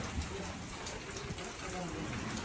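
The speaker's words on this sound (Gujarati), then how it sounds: "તો ભાઈ આ રીતનો વરસાદ છે" Rain falls on a village in Gujarat during an unseasonal summer shower, a soft continuous patter and hiss of drops on surfaces, faint and steady throughout, with no one speaking over it.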